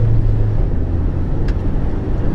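A manual-transmission car pulls away in first gear, its engine a steady low rumble close by with a faint brief click midway and no talking.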